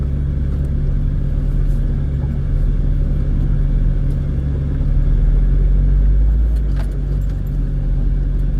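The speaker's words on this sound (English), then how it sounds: "Take off, first gear, low lock, head down the wash, Potsy." An off-road vehicle crawls in first gear, low lock, down a desert wash, its engine a loud, steady low rumble with faint rattles and jangles over it and no one speaking.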